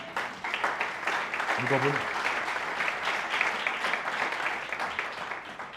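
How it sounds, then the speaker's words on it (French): Church congregation applauding, a steady wash of clapping that fills the space throughout while a preacher speaks over it in French. "On peut acclamer quand même pour ça."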